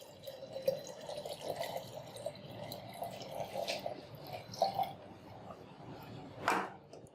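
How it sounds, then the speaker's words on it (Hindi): Cold ice water is poured into a jug of green mango panna, a faint, uneven watery trickle and splash with a few brighter splashes and clinks. "इसदे विच हुण आपां ठंडा पानी बर्फ वाला पा देंगे।"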